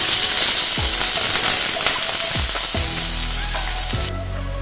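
Mixed vegetables for a Bhogi bhaji sizzle loudly in hot oil in a kadhai, a steady dense crackle with a few stirring knocks, dropping in intensity near the end.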